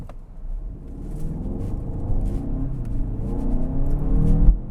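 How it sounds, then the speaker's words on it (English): A 2021 Hyundai Santa Fe Limited in sport mode accelerates from inside the cabin, its engine a low, steadily building rumble that grows louder over a few seconds, with no talking. "let's put this car in sport mode. I do need to get around this slower driver."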